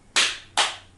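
Two crisp hand claps about half a second apart tap out the shamisen rhythm teten, each sharp and close with a short decay, with no talk around them.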